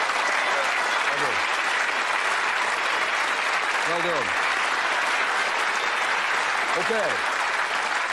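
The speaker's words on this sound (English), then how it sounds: "Give them a round of applause." Sustained studio audience applause on a UK Bullseye game show fills the whole stretch at steady loudness, with a host's voice briefly speaking over it.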